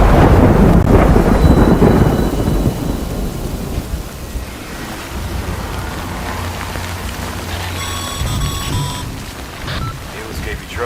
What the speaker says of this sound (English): Good thing it was raining.